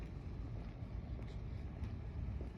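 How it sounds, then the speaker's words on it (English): A car rolls slowly up toward the curb outdoors, heard as a low, steady rumble with light wind noise and faint distant sounds over it. "This car is slowly rolling up, as you see."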